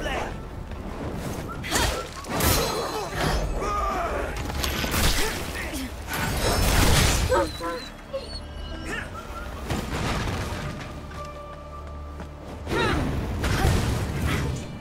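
Bombs thrown and exploding in the video game Wuchang: Fallen Feathers, several sharp booming bursts and crashes spread across the scene with whooshes and mechanical clatter, under frequent speech.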